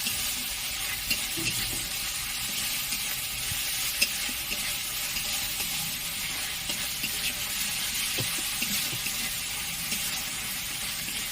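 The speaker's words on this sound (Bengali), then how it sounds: "এটা হালকা করে ভেজে নিতে হবে, তাহলে আদা রসুনের গন্ধটা থাকবে না" Ginger garlic paste frying lightly in a pan for a fish fingers recipe, a steady soft sizzle with occasional stirring scrapes and small taps, close and continuous with no talking.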